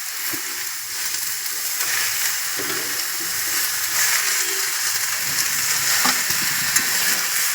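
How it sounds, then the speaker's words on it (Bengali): Spinach hisses and sizzles loudly in a hot wok with potatoes, beans and eggplant, a continuous dense frying crackle with faint stirring and splattering throughout. "এই পড়ে গেল পালং শাক"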